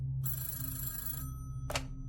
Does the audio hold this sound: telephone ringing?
yes